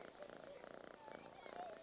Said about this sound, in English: Look at the cat! Are we actually gonna pet this cat?